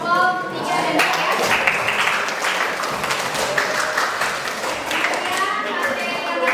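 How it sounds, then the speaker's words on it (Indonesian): A middle school class in Karawang applauding groups 3 and 4, loud close clapping sustained throughout, with voices speaking over it. "Tepuk tangan untuk kelompok 3 dan 4 ya."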